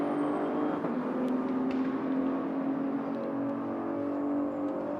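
A race car circulates during qualifying for the 4 Hours of Abu Dhabi in the Asian Le Mans Series, heard as a steady high-pitched engine whine with faint whirring and no voices.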